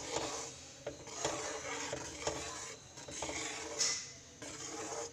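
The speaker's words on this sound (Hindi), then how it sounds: "अब लगातार चलाते हुए हमने इसे ऐसे ही कुक कर लेना है।" A halwa of egg and gram flour cooking in a pan under continuous stirring, heard as a soft, steady sizzle with rhythmic scraping strokes of the spoon, fairly faint and close.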